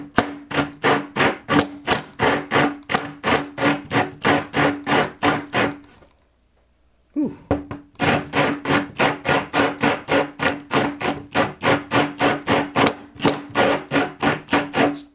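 Motorized hand coffee grinder crushing beans, a loud, steady rapid rattling crunch pulsing about three times a second, pausing briefly mid-way before resuming at the same pace.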